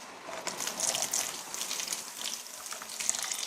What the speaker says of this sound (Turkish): Döküyorum şimdi suyumuzu.